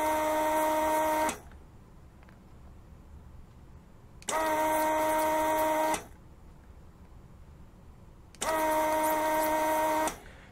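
A desoldering station pulling solder from a circuit board, its vacuum pump giving three even whirring bursts of about a second and a half each, separated by quiet pauses.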